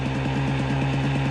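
A KTM 300 TPi two-stroke motorcycle engine runs loud and close, with a steady, rapidly pulsing drone across the whole short clip, with no talking.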